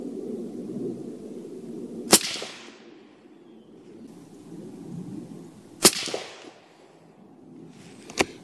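A 6.5 PRC CZ 600 Alpha rifle fires Barnes 130 grain TSX ammunition on a 100-yard range: three sharp, loud cracks a few seconds apart, each trailing a short echoing decay over faint background hiss.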